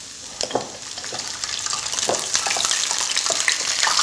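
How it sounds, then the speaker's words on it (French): Oysters coated in tempura batter frying in a bath of hot oil, giving a steady bright sizzle with crackling pops close by that grows slightly louder as the frying goes on, with no voices. "quand elles sont enrobées, hop, direction le bain de friture."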